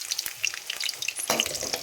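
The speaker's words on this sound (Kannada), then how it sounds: "ಇದು ಫ್ರೈ ಆಗಲಿ." An onion frying in hot oil for a tempering, a close, steady sizzle with sharp crackles and pops and a stirring clatter near the end.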